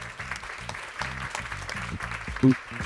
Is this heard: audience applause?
yes